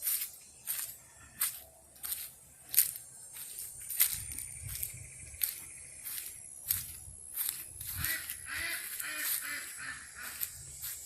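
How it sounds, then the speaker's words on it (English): Ducks quack in a garden, repeated quacks sounding at a moderate distance, mixed with footsteps as someone walks down a hill through the grounds. "Do you hear the ducks?"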